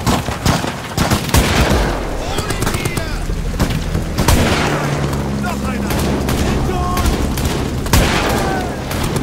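Gunfire in the video game Amnesia: The Bunker, with several loud sharp shots and bursts over a rumbling game soundscape.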